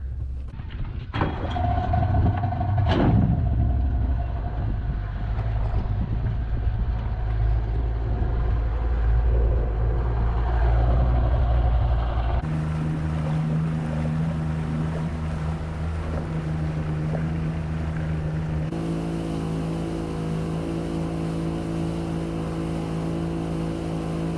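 Yamaha 90 outboard motor running on a boat during break-in, a steady loud engine drone with wind rush across the microphone, changing pitch in stages as the throttle is raised.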